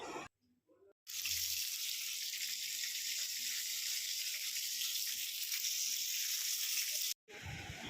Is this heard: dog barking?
no